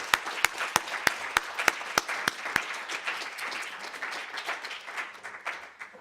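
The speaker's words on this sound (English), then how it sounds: "So let's give them a round of applause" Workshop audience applauds, opening with a few sharp, loud claps close by before spreading into a fuller, fading round of clapping from the room.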